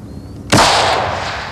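A single loud, close report from a 7.62 mm NATO-calibre target rifle on a shooting range, a sharp crack followed by a long fading echo after a quiet lead-in.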